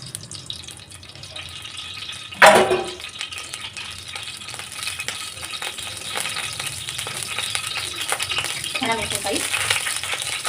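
Oil heating in a hot bandli pan, a continuous frying sizzle with a sharp burst as something hits the oil, then a steady hiss with light stirring.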